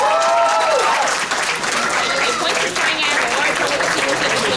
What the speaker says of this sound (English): Let's give him another round of applause here.